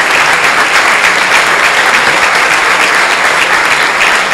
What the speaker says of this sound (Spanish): vamos a dar un fuerte aplauso a doña Patti porque está cambiando Veracruz